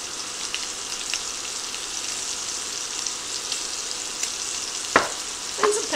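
Seasoned pork chops sear in a pan with a steady, moderately loud sizzle and crackle, plus a few louder pops and clinks near the end.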